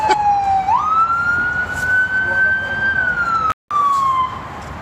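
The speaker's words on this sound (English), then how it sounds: "Yeah, that's an ambulance." A loud ambulance siren wails close by, its tone sliding up and then holding in a long sustained wail before tapering off over road noise.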